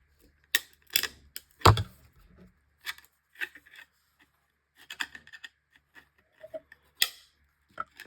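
Snips and clicks from trimming the corners of a plastic PSA or CGC graded card slab, a sparse irregular series of sharp close ticks and cracks separated by short quiet gaps.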